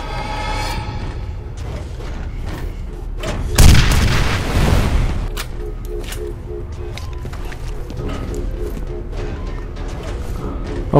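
Enemy gunfire in the shooter game F.E.A.R., a heavy burst of booming shots lasting about two seconds mid-stretch, set against a steady low game rumble and faint background tones.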